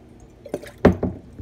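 A heavy glass cup dropped into water and sinking, heard as a few soft close splashes and gurgling plops over about a second, with no talking.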